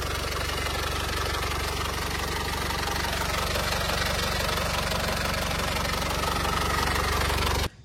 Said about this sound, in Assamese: ইঞ্জিনৰ চাউণ্ডটো স্মুথ হৈ আছে একদম